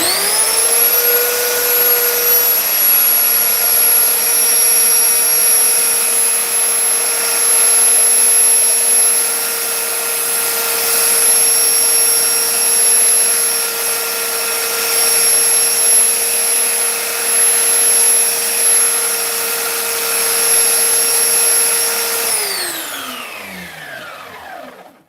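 Mower blades are ground on a power sharpener with a steady, loud, high whine that runs unbroken for over twenty seconds, then spins down at the end.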